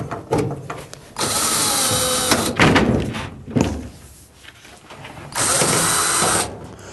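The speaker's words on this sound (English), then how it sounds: "I'm going to start by removing the air vent. There's just one Phillips screw holding this in place." A power screwdriver whirs in several short bursts while undoing a Phillips screw from the air vent at the back of a tumble dryer, close up, with clicks and knocks between the bursts.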